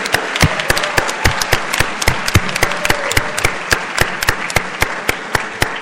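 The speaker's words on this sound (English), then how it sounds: "Can we give Uma a big round of applause for her introduction again?" An audience at a student civics event claps loudly and steadily, dense overlapping claps with a few louder individual hits standing out, continuous for several seconds with no talking.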